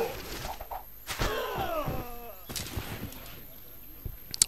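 Units in Civilization V fire their weapons in a few sharp, separated reports, with a dull thud or two and a faint voice underneath, over a quiet strategy-game backdrop.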